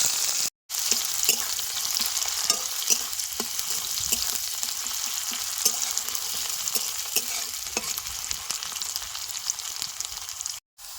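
Onion and cumin seeds fry in mustard oil for a village-style chicken pasta, a steady close sizzle and crackle with light stirring scrapes, broken by a brief silence near the start and end; no talking.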